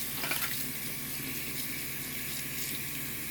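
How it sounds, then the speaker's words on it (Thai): Running kitchen tap water splashes steadily into a sink while shrimp are washed beneath it, a constant hissing stream at moderate level with no speech. "เราก็จะล้างกุ้งก่อนนะเราอันดับแรก"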